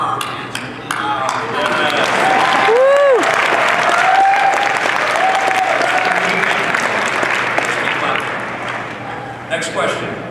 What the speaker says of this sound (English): Joe, clap our hands.